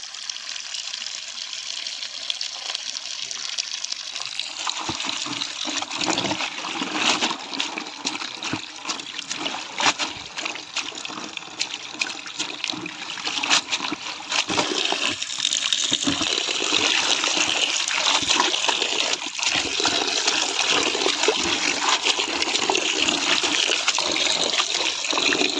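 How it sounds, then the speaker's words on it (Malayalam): Ivy gourd leaves being washed in a large vessel of water, producing continuous close splashing, trickling and sloshing that grows fuller and steadier over the span, with no talk. "ഒരു വലിയ പാത്രത്തിൽ വെള്ളം പിടിച്ചിട്ട് 3-4 വെള്ളത്തിൽ നമ്മളിനി ഇത് കഴുകിയെടുക്കണം."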